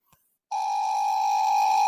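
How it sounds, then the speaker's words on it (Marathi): A faint blip, a brief pause, then a steady electronic ringback tone begins and holds evenly to the end. "काय माहित उचलते का नाही ते मायाला फोन"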